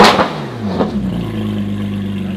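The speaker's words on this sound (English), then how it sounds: "Straight piped GT4 RS." Straight-piped Porsche GT4 RS flat-six blips with a sharp rev or two, then settles into a loud, raspy idle at close range.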